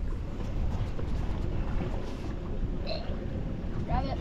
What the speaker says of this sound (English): Wind's blowing me over the trap.